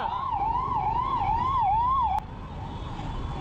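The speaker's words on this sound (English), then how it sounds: "Ambulance ide." An ambulance siren wails on a highway in a steady rising-and-falling pattern, loud and close over road rumble, then cuts off abruptly partway through, leaving only traffic noise.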